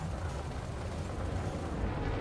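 Pacifier frag-style cannons fire in Elite Dangerous space combat, producing a dense, continuous barrage of heavy booming rumble at steady loudness with no talk.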